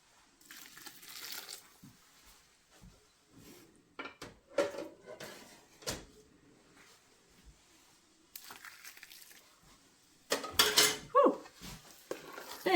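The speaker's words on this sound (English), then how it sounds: "Then we're going to stir this around." A spoon scrapes and knocks through bread-and-broth chicken dressing in a pan, uneven bursts of clinking and soft squelchy stirring separated by quiet gaps, close and alone.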